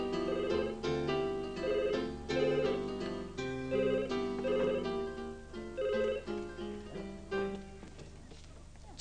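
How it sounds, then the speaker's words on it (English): A telephone ringtone in a children's cartoon plays a repeating electronic melody in regular bursts, clear and fairly loud, with a music-like tonal pattern throughout and no talk over it. "You could answer the phone sometimes."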